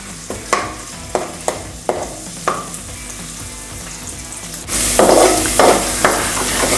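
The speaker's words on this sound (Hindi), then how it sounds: "अब इन्हें मैं हल्का सा फ्राई करूंगी।" Half a teaspoon of chopped ginger and four chopped garlic cloves being lightly fried in oil, with a few sharp stirring scrapes before a steady, close sizzle swells up loudly for the last couple of seconds.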